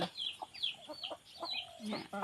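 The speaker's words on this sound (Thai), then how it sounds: "นี่ก็ไก่ตีไก่ตี" Fighting roosters cluck and call close by in short, irregular bursts, with a voice speaking over them throughout.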